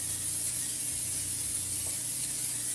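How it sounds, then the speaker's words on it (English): A steady aerosol hiss of cooking spray, continuous and close, with no voices. "Let me grab my cooking spray."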